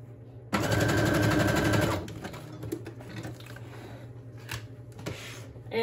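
A sewing machine stitches fabric onto a decorated journal page, a loud, steady mechanical whir for a short burst before easing into a quieter rumble with faint handling clicks.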